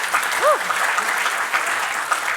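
Audience applause during a business talk, a steady broadband patter of clapping that fills the short stretch at moderate level, with a brief tonal chirp near the start.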